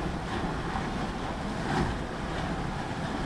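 Steady wind and waves around a sailing boat at sea near Langkawi in a 17 to 18 knot breeze, a dense continuous rush of wind noise and water with a slight swell in the middle.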